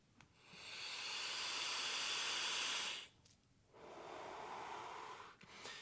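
Two long airy draws through a Voopoo Argus Pro vape with a 0.15 ohm coil at 65 watts and wide open airflow, close and hissing, about three seconds then two seconds, with breathy exhales around them.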